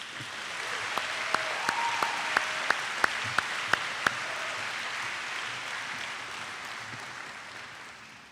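Audience applause at an upper school awards ceremony honoring a robotics team, a steady wash of clapping lasting throughout with a few sharper individual claps standing out near the middle.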